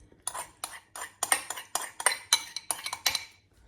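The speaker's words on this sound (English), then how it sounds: "That sound of pasta moving about." Repeated scraping and clinking of a utensil against a pan while stirring pasta, about a dozen quick strokes in an uneven rhythm, close and fairly quiet.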